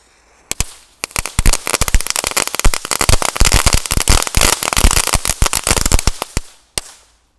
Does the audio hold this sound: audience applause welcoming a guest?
no